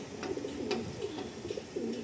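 A female triple-band pigeon coos softly in a low, repeated rhythm, several gentle coos at moderate distance over faint background noise.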